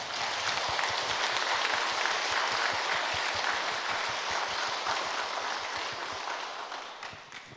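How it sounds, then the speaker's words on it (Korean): A church congregation at Na Sung Young Nak Church applauds on its 51st anniversary, many hands clapping in a dense, sustained patter that holds steady and then tapers off toward the end, with no talk over it. "우리 주님께 감사와 영광의 박수 올려드리겠습니다"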